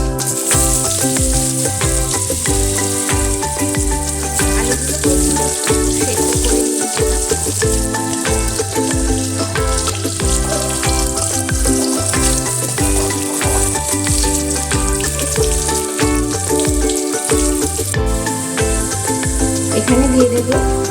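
Boiled, diced potatoes fry with fennel seeds and whole cumin in a kadai, giving a loud, close, continuous sizzle and crackle that runs steadily throughout with occasional stirring scrapes.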